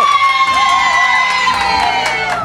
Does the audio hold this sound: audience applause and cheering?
yes